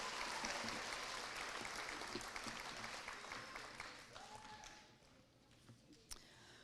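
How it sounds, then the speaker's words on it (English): Audience applause fills an elementary school awards ceremony hall, steady dense clapping that tapers off over several seconds into scattered claps, with faint voices beneath. "How about another round of applause for Apple of My Eye winners and their teachers?"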